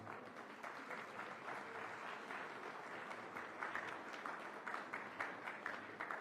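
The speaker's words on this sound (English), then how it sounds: "Ladies and gentlemen, a huge round of applause." An audience applauds steadily at an MOU exchange ceremony during a climate week inauguration in Mumbai, an even, moderately distant wash of clapping throughout.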